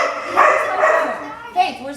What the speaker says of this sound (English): It's only the dog.